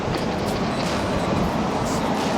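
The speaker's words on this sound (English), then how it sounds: "listen to the road trains going over that bridge" A loud, continuous low rumble of road trains rolling over a bridge, steady and droning throughout with no breaks.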